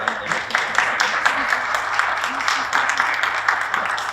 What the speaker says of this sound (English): A round of applause for Ms. Martha Martinez